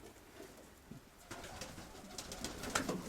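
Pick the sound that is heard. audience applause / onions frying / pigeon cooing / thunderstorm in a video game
pigeon cooing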